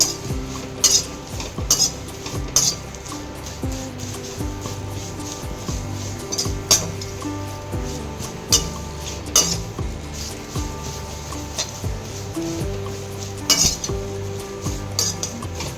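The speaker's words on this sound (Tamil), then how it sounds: "இன்னைக்கு கருவேப்பிலை மட்டும் வறுத்து அதில் போட்டுருவோங்க" A handful of curry leaves dry-roasting in a pan while being stirred for homemade sambar powder, with repeated scraping and clinking strokes of a utensil against metal over a light crackle.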